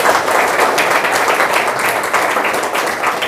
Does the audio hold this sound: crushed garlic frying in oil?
no